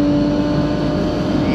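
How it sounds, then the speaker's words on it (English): A drag car running down a quarter-mile strip, rolling into fifth gear near the top end, gives a loud, steady, sustained engine drone heard up close, with no break in the noise. "Rolling over to fifth gear to top it out."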